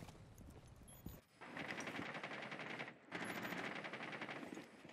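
Rapid automatic gunfire in a shooter video game, with loud sustained bursts of shots broken by a brief pause, close and dense.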